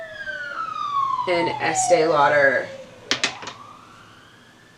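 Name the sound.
sirens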